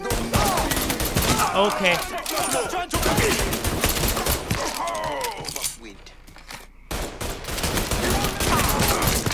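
Rapid bursts of gunfire from the video game Mafia 3, set in a swamp, rattle on almost without pause, loud and close, while someone talks over the shooting in short remarks.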